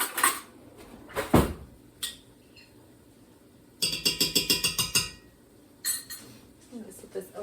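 A spoon clinks and scrapes against a pot while thawing frozen garlic cubes are stirred, giving a quick run of rhythmic metallic taps between sparse, quieter clanks in a home kitchen.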